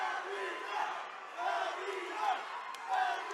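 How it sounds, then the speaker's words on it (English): Crowd at a Cage Titans 51 MMA fight chanting for fighter Andrew Valdina, a steady wash of many voices with rhythmic swells of the chant rising roughly every three-quarters of a second, heard from a distance across the arena. "Crowd chanting for Valdina."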